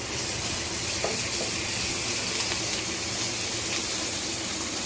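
Ginger garlic paste hits about a tablespoon of hot oil in a pan, producing a loud, continuous close-up sizzle and hiss that holds steady throughout, with faint stirring scrapes.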